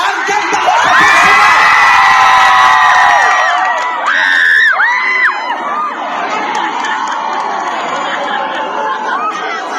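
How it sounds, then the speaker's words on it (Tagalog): At a comedy concert in Sorsogon, a large crowd cheers, whoops and screams loudly with applause mixed in, a dense roar that peaks early and then settles into sustained cheering and chatter. "Magpalakpakan may kasamang hiyaw lahat na naniniwalang ang ganda ko sa person!"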